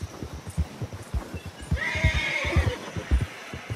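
A horse in the video game Red Dead Redemption 2 clip-clops along in a steady rhythmic gait, and a loud, bright whinny rises over the hoofbeats midway through.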